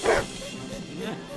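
Cartoon dog giving a short, loud bark at the start, followed by softer vocal sounds in a brief animated folk-tale scene.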